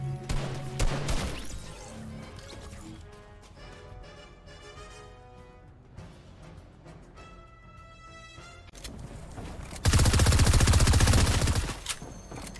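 Gunfire in Fortnite, a few sharp shots near the start, then quieter rapid bursts, and a dense loud roar of firing late in the stretch before it drops away.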